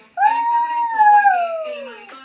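A young child imitates a wolf howl with one long, close vocal note that rises, holds and slowly falls away over about two seconds.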